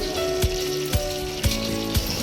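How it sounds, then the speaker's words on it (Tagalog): Shrimp fritters (ukoy) fry in hot oil with a steady crackling sizzle, broken by four evenly spaced sharp knocks, as if a utensil taps against the pan. "Ngayon, lalagay niyo sa kumukulong mantika."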